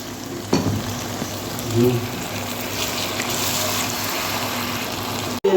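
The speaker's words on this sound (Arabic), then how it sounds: "نزيد نخليها تتقلى شويه حتى نتنحى الحموضيه هذيك اللي فيها" Tomato sauce for spaghetti fries in a pan with a steady, close sizzle and crackle, briefly swelling as it is stirred and ending in a sharp break.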